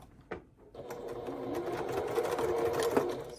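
A sewing machine stitches the lining of a heart-shaped pouch, starting after a brief handling click and then running steadily and close for a few seconds.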